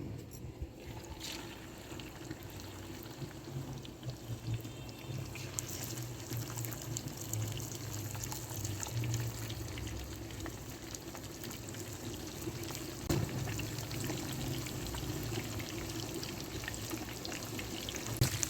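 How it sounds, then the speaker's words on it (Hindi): Fish frying in hot ghee gives a steady, soft sizzle and crackle that runs the whole time at low to moderate level, with no voices. "तो घी अच्छी तरह से गर्म हो गया है तो फिश फ्राई कर लेंगे हम।"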